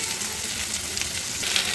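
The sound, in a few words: frying in a pan with turmeric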